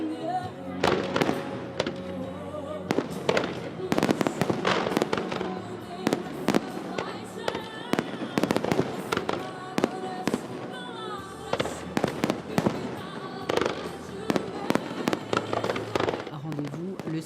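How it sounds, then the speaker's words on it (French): An international fireworks competition display in Monaco, with repeated sharp bursts and crackling explosions, some in quick clusters, echoing over a continuous background with brief pauses between volleys. "Le concours international de feux d'artifice se poursuit en principauté."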